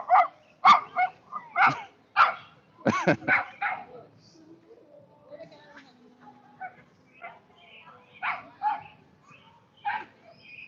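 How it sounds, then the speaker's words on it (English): A dog barks in short bursts, several sharp woofs close by, pausing briefly before a few more barks near the end. "Why you barking at me?"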